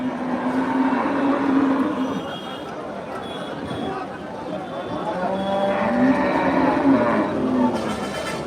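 Cattle low and moo at a large cattle market in Bangladesh, repeated calls rising over a busy crowd, with people talking throughout.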